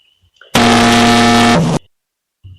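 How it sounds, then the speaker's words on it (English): A single loud buzzer blares for about a second, a harsh, steady electronic tone that cuts off abruptly, set between near-silence. "That was the buzzer."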